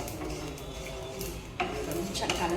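Sesame seeds being stir-roasted in a pan, a soft continuous scraping and rustling with light clinks of the utensil, a sharper scrape near the end, quiet.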